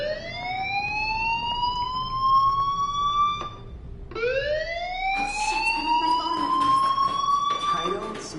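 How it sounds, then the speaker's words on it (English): A fire alarm in the Life is Strange video game sounds as a loud, wailing electronic siren that sweeps upward, cuts off briefly, then starts again, with sharp clicks and tones layered over it. "do you hear that fire alarm? That means you should be outside."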